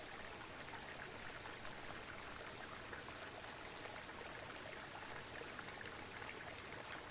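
Steady rushing of water tumbling over rocks into a pool, a broad continuous wash of sound with fine trickling detail, fairly soft and unbroken throughout.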